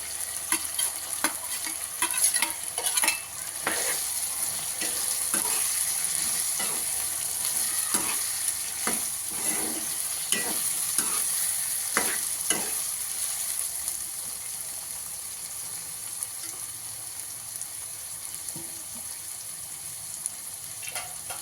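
Onion frying in a pan for veg pulao, stirred repeatedly with clattering scrapes over a continuous close sizzle that settles into quieter frying in the last several seconds.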